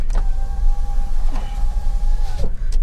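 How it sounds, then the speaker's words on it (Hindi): A car's power window motor whirs steadily as the glass glides up while driving on a dusty road, a strained electric hum over low engine rumble, ending with a soft thunk as it seats. "धूल बहुत उड़ जाती है इसी वजह से मैं शीशे बंद कर रहा हूँ"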